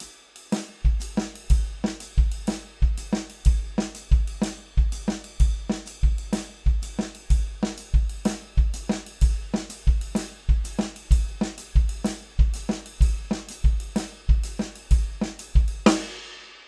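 A drum kit plays a swing cymbal pattern over snare and kick alternating in quarter-note triplets, a steady loud groove of evenly spaced hits with no talk, ending in a final crash.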